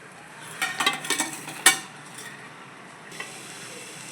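A spoon stirs kantola vegetable curry in a pan, giving several quick scraping and clinking strokes with a soft sizzle underneath, then a final faint tap.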